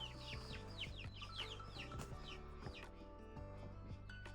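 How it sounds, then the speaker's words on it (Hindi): A flock of small chickens clucking and chirping close by, busy overlapping calls repeating throughout with no talk. "देखिए गाइस, यहाँ पर छोटे छोटे कितने सारे मुर्गे हैं, बहुत ही सारे मुर्गे हैं"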